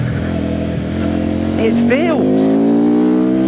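A Benda LFC700 motorcycle engine revs up in one rising and falling sweep, close by, while a rider talks over the steady idle.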